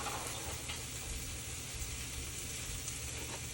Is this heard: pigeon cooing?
no